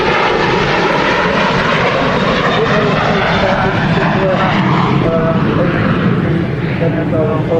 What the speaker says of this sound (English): we're going to stick with the 380 for now as it's on its final position for landing now